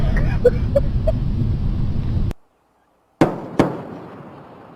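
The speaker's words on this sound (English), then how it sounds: "twin sonic booms heralding Atlantis' arrival at the Florida spaceport." Twin sonic booms from Space Shuttle Atlantis arriving at the Florida spaceport: two sharp, loud cracks in quick succession after a sudden drop to silence, preceded by steady background noise and crowd chatter.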